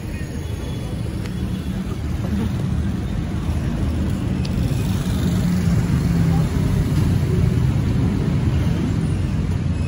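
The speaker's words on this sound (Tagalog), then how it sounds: "yung may dumadaan na Honda Civic na FD." A Honda Civic FD drives past on a busy street among jeepneys, its engine and road noise blending into a continuous loud traffic rumble while someone talks over it.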